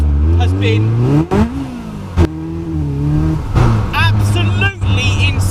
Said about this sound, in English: The 620S, a 2-litre Duratect supercharged Caterham